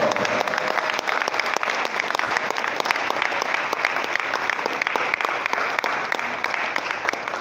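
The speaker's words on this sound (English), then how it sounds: "with a very big round of applause, let's welcome Dr. Maureen Rowe." Sustained applause from an audience at a World Rivers Day commemoration held by Ghana's Water Resources Commission, steady dense clapping filling the room for several seconds without pause, welcoming a speaker to the stage.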